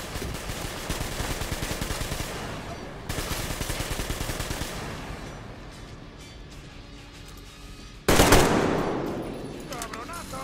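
Shotgun blasts and heavy gunfire in the video game Metro Exodus, loud, dense and continuous, ending with a sharp, very loud blast near the end and a ringing decay. A voice speaks faintly beneath the shots.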